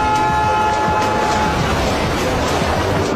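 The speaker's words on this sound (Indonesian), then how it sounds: "sebuah kereta tiba-tiba melaju cepat ke arahnya" A loud, steady rumbling roar of a train bearing down, with sustained tonal whines layered over the continuous rush.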